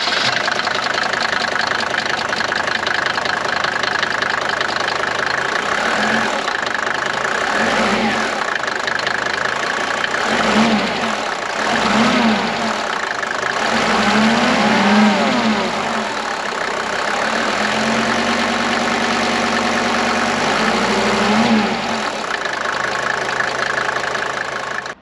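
Mercedes 250 TD W124 Estate diesel engine idling with a steady knocking clatter, rising in several revs and falling back to idle, close and loud throughout with no talk.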